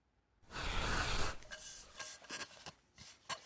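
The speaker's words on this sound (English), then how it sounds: "Sure, let's give it a rub." An old, dusty antique lamp being rubbed by hand: a broad, loud rasping swish that then breaks into shorter, irregular scraping strokes, close up and with no voice.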